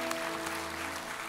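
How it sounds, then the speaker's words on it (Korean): A congregation at a Sunday worship service at Irvine Onnuri Church claps together in a brief burst of applause over a steady tonal hum from instruments. "주님께 감사와 영광의 박수 올려드리겠습니다"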